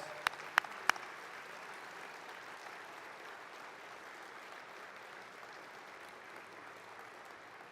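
Audience applause at an international World War II conference, a few sharp near claps at first and then a steady, fairly faint wash of crowd clapping that holds evenly to the end.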